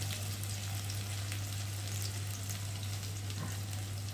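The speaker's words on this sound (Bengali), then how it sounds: "রসুনটা আগে তেলের মধ্যে ভেজে নেওয়াই ভালো" Onion and garlic paste frying in hot oil in a kadai, a soft continuous sizzle with faint crackles and a low electrical hum beneath, no voices.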